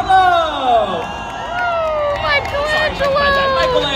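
Crowd of children and families cheering and shouting for costumed Teenage Mutant Ninja Turtles characters at a live dance party show at Nickelodeon Universe, loud excited whoops and high voices mixed with an announcer's voice.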